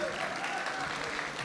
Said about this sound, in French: Donc, on applaudit encore Tom et Brice.